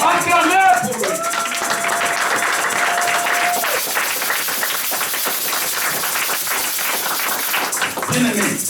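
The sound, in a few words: congregation applauding in church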